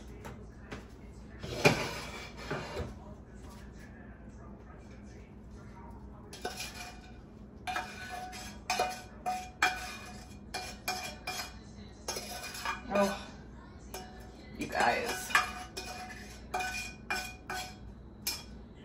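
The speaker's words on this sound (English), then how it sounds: "So we're gonna spoon the filling." A spoon scrapes and clinks against a dish while blueberry pie filling for pie bars is spooned out, in several short bursts of metallic clatter separated by quieter pauses, close by.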